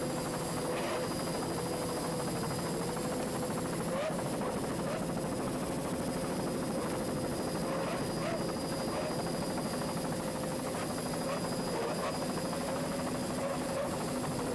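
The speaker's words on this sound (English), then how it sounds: "Let's listen to those two 200 horsepower Johnson outboards." Two 200 horsepower Johnson outboard engines on a racing powerboat in an offshore Gold Cup race drone in a loud, steady, tonal roar that holds for the whole stretch, with commentary voices over it.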